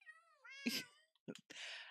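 A cat in Minecraft gives a rising, wavering meow, then after a short pause two quick, softer cat sounds, clear and close against silence.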